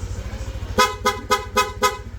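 A PIA horn fitted to a Yamaha NMAX V2 scooter sounds in five sharp, evenly spaced blasts over a low idling engine, loud and close.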